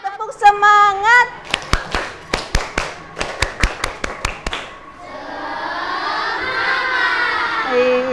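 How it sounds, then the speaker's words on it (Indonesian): Schoolchildren in a classroom do a rhythmic spirit clap, a patterned run of sharp, loud hand claps in quick groups, opened and closed by a lively chorus of young voices chanting and cheering together. "Tepuk semangat."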